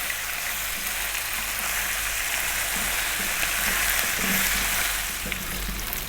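Lamb curry masala with salt fries in a pan over medium heat with frequent stirring, giving a steady, dense hiss of sizzling oil with faint scraping from the stirring and no talk.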